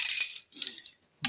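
Working on a Triumph Trident T160 engine, the oil pump drive pinion is tightened with a hand tool, giving a few soft, quick metallic clicks and ticks that are close and quiet with short pauses between.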